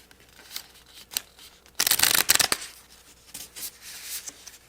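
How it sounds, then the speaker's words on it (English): Papery shuffling of tarot cards in short bursts, with a longer flurry of riffling in the middle, quiet and close, no speech. "I'll shuffle one more time"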